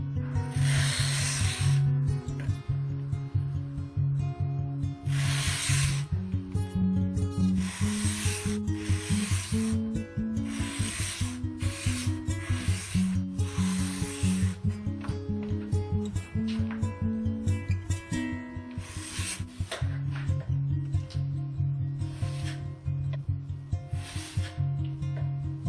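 The bevel of a Stanley No. 220 block plane blade is rubbed on 220-grit sandpaper in steady back-and-forth strokes, a rhythmic gritty scrape repeating throughout over background music.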